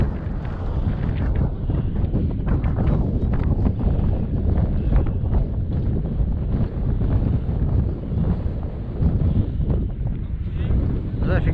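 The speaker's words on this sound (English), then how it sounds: "I don't know if you can actually hear me speaking, the wind is so strong." Strong wind buffets the microphone on an exposed stretch of the South Downs Way during a wild camping trip, a loud, continuous, rumbling roar with gusts that swell and fade throughout.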